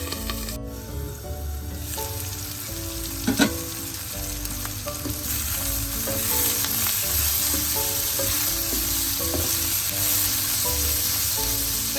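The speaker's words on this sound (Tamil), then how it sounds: "எல்லாத்தையும் நல்லா கலந்து விட்டுட்டு மூடி கொஞ்ச நேரம் வதங்க விடுவேன்" Long beans sauté in a covered pan, giving a steady, close sizzle that runs throughout, with a brief clatter early on and background music playing underneath.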